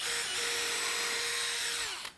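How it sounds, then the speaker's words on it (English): A power drill bores pilot holes up through the tops of a wooden sawhorse, its motor whining at a steady pitch for about two seconds, close and loud, then stopping abruptly. "I'm drilling from the bottom, just so I know where my lines are gonna line up."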